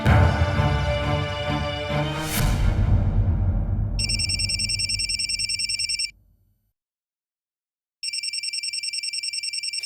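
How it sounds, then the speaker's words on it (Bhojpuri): A loud crash-like burst decays away, then an electronic telephone rings in rapid trilling bursts, pauses in silence, and rings again. "फोन टिंटिनावत रहेले हमेशा"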